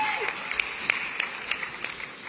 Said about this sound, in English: And that is an applause line.